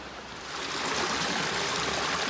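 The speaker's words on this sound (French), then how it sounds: "L'eau qui arrive des cascades, donc elle va ici, et après elle chemine là, dans ce canot," Water from waterfalls rushes steadily down a channel, a close, continuous broadband gushing that swells slightly louder over a couple of seconds with no voices.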